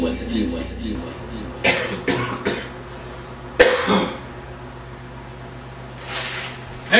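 Several short coughs and throat-clearing bursts come in quick succession, then a pause, and one more cough near the end.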